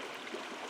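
Flowing water of Buffalo Brook, a New England stream, a short steady rushing wash with soft gurgles, close and continuous, no voices.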